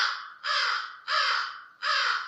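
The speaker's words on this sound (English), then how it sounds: "Crow," A crow caws three times in a row, loud and close, each harsh call drawn out with short gaps between, with no other sound.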